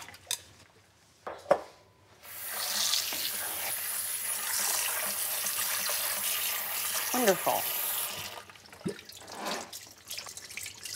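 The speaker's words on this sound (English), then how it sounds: "So what I'm going to do now is rinse this and get the excess salt out in cold water." Cold tap water runs steadily into a sink as salted meat is rinsed, with a few clinks of dishes before and after and a brief spoken word.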